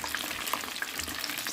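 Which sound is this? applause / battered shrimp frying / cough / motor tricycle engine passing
battered shrimp frying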